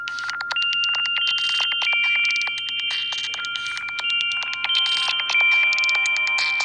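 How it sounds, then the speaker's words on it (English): The AT&T Catch Me ringtone plays on a Samsung Galaxy S7, a loud, bright melody of quick repeated plucked tones with sustained notes, close and continuous throughout. "I'm gonna do the ringtones."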